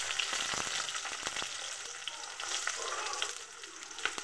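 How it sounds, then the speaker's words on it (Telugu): Onions and green chillies frying in oil in a pan for palak curry, a steady close crackling sizzle with occasional sharper pops and stirring scrapes, continuous throughout with no talking. "వేసి బాగా ఫ్రై చేయాలి, బ్రౌన్ కలర్ వచ్చే వరకు."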